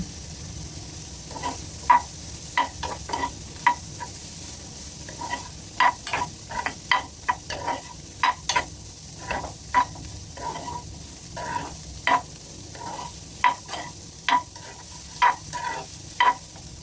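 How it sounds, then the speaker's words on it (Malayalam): Bitter gourd, shallots and green chillies sauté in a pan with a soft constant sizzle, broken by frequent quick scraping taps from a spoon stirring the mix close by. "ഇനി നമുക്കതിലേക്ക് കട്ട് ചെയ്ത് വെച്ച ചെറിയുള്ളിയും പച്ചമുളകും ചേർത്ത് കൊടുക്കാം. എന്നിട്ട് നന്നായിട്ടൊന്ന് വഴറ്റിയെടുക്കാവുന്നതാണ്."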